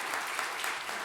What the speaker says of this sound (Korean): 중고등부 친구들도 한번 박수 쳐보세요